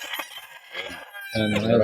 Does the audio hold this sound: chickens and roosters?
yes